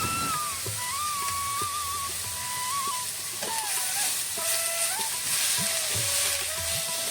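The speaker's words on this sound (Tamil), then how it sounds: "இப்போ உப்பு போட்டு நல்லா வதக்கிக்கலாம்" Onions sizzle with salt in a pan for a spinach prawn curry, a continuous close frying hiss with occasional stirring scrapes and no talk.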